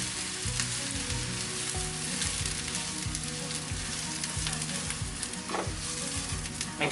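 Onions and grated coconut frying in a pan over medium heat for chicken xacuti, a steady close sizzle with rhythmic scraping strokes of a spoon throughout, no voices.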